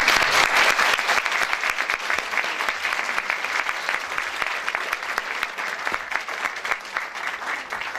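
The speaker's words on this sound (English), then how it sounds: "So give them a big round of applause." An audience at a film festival screening breaks into a dense, sustained round of applause, loud and steady throughout before tapering slightly.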